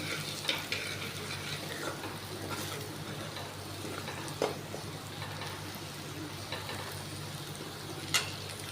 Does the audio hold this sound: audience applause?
no